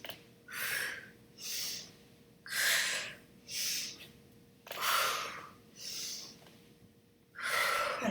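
Steady breathing during a yoga flow: about eight slow, even breaths, each an audible inhale or exhale with short pauses between, close and clear with no talking.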